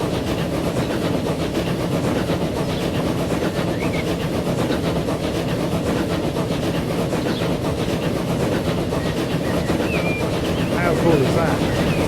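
A train rolls past in the railway game Transport Fever, a steady, fairly loud rumble of wheels and carriages holding even throughout with a faint rhythmic clatter.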